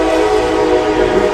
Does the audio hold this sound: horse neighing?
no